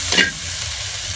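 Vegetables for pakbet are stirred in hot oil in a pan, a brief close sizzle with a scrape of the spoon at the start over a steady frying hiss.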